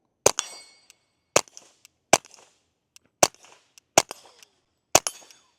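Six sharp, loud pistol shots from a Ruger Mark IV 22/45 Lite firing .22 rounds, spaced roughly a second apart, each a crisp crack with a short echo off the range.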